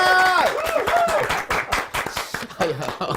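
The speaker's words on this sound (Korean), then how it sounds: "얼떨결에 박수를 치시는 후보자가 한분 나와 계시고요" A single election candidate claps hands at a Korean TV debate studio, light claps mixed with cheering and a presenter's voice talking over the top throughout.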